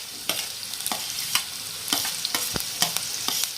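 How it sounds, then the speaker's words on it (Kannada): Chopped onions fry in hot oil, a steady sizzle broken by sharp scraping stirs at irregular intervals, close and moderately loud with no talking. "ಇವಾಗ ಎಣ್ಣೆ ಬಿಸಿ ಆಗಿತ್ರಿ ಇವಾಗ ಉಳ್ಳಾಗಡ್ಡೆ ಹಾಕೊಂಡ್ರಿ"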